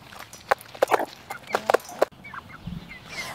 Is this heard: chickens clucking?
yes